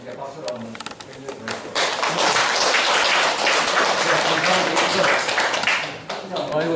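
An audience claps for a lecturer at a talk on a Nakdong River journey, dense applause swelling in the middle and continuing steadily with a voice speaking over its start.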